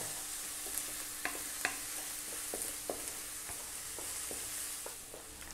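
Chopped garlic and onion sautéing in a pan for Filipino spaghetti sauce, a steady close sizzle broken by sharp scraping clicks as a utensil stirs the pan, no voices.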